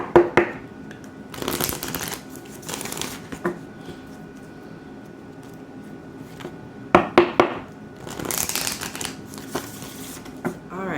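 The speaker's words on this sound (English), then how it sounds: "Let's pull your oracle cards and shuffle" Oracle cards being shuffled in several bursts, riffling and flapping close by, separated by quieter pauses with no talking.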